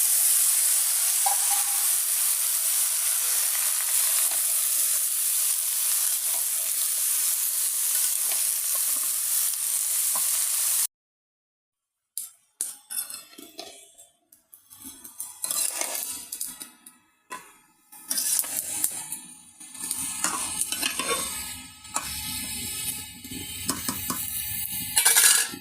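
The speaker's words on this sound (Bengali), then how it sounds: "এখন লাউটা তেলে দেব, আর এই যে চিংড়ি" Bottle gourd and shrimp going into hot oil: a steady hiss first, then a sudden break and sputtering, crackling frying with clatters of a utensil against the pan, close and loud, with no voices.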